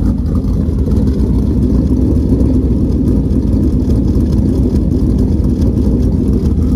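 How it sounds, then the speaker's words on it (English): A freshly worked-on car idles steadily nearby, a loud, even low rumble with no change in rhythm and no voices. "love the idle"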